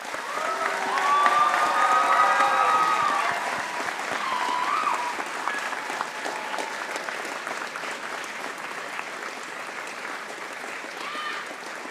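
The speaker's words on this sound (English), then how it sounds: "So how about we give all of your supporters a big round of applause." A graduation convocation audience at Trent University applauds supporters, a dense swell of clapping that peaks early then thins out, with some whistles and cheers mixed in.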